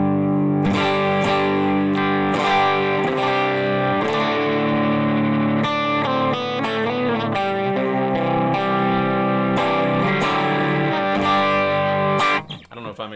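An electric guitar on the neck pickup plays through an overdrive pedal with its boost switched on, giving sustained, dense distorted chords and notes that ring loud and steady before cutting off abruptly near the end.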